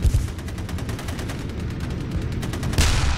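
Tank cannon fire in the WWII strategy game Theatre of War 2, set at Kursk in 1943: a sharp blast at the start, a sustained rumbling rattle after it, and a second loud report near the end, with no voices.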